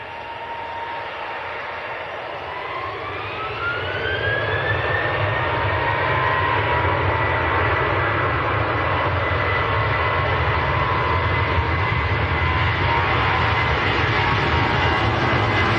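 Jet airliners, including a British Airways plane, taxi at Manchester Airport. A steady engine roar and whine builds as the engines spool up, then holds loud and constant with no voices over it.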